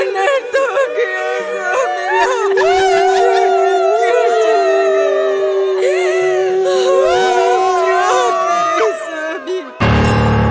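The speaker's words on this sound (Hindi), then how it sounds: "ये औरतों की रोने की आवाज कहां से आ रही है?" Women cry and wail in a dramatic mourning scene from a Ramayana Aalha folk performance, with long sustained tonal howls and sobbing voices rising and falling together, loud and continuous before an abrupt change near the end.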